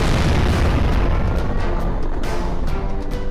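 Dark eco bomb detonating in Jak and Daxter: a loud, sustained rumbling boom with a dense, roaring blast filling the whole moment, no voices over it.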